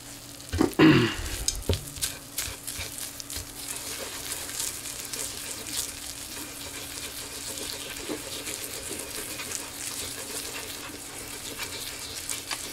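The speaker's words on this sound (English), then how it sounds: "Mix it nice and fast so that it doesn't burn rapidly, because the heating element is right there" Hot rocket candy fuel stirred quickly in a heated pan: a loud burst of scraping and clatter at the start, then a continuous hiss and sizzle with faint stirring clicks, close up and without speech.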